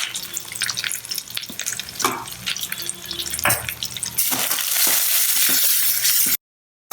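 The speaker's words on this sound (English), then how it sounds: "add some mustard seeds, add some curry leaves, a tablespoon of groundnuts, little bit of hing," Mustard seeds, curry leaves and groundnuts crackle and sizzle in hot oil with pops and stirring, growing into a loud, steady hiss before it cuts off abruptly.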